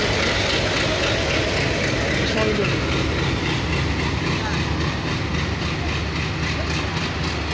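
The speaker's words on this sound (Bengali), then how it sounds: "তেলখোর লোকোমোটিভ WTM 3D নিয়ে যাচ্ছে 65।" A WDM-3D diesel locomotive, number 6534, hauls the Titumir Express in a continuous loud, close rumble of engine drone and rolling wagons that holds steady throughout.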